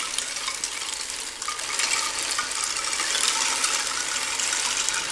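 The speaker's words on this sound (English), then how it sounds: "I also have this rain drum. And it sounds like rain when you twist it." A handheld rain drum twisted slowly gives a continuous hiss of tiny pattering beads like steady rainfall, close and even, with no voices.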